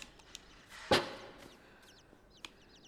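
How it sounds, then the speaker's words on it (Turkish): Chicks in the video game Inside give soft, high chirps scattered across a quiet ambience. One louder fowl-like cluck stands out near the start, and faint peeps follow. "Bakın civcivler bunlar kuş bunlar."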